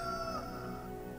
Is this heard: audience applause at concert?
no